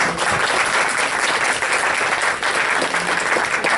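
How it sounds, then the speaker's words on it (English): A crowd gives a big round of applause at a morning gathering, dense steady clapping from many hands filling the space for nearly four seconds without pause, loud and close. "give them a big round of applause."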